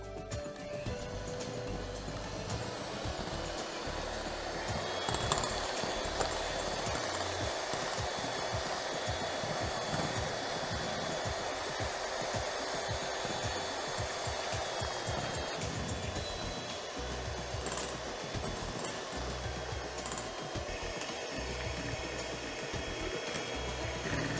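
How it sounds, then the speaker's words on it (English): Powdered sugar mixture being whisked, most likely with an electric mixer, giving a steady, loud whirring drone that runs unbroken and alone for the whole stretch. "Now I am going to be adding the powdered sugar. And now I am again going to whisk it nicely."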